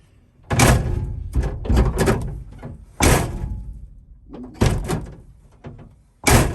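A Chevrolet K10 truck's driver's door swings shut and latches several times in succession, each close a sharp solid thunk followed by a short decay, with brief quiet gaps between.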